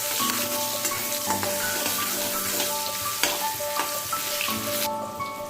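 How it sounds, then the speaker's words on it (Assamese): Finely chopped onion fries in oil with a loud, dense, continuous sizzle and crackle, punctuated by a few soft clicks of a utensil, no voices. "এতিয়া মিহিকৈ কুটি থোৱা পিঁয়াজখিনি দিম আমি তেলত।"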